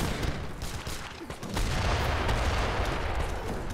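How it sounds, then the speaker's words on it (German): Mortars firing in Age of Empires III produce a dense, continuous barrage of booming shots and rumbling impacts, loud and overlapping throughout with no clear talk. "Es sind ganz viele Mörser da. Aber die schießen gerade alle ab."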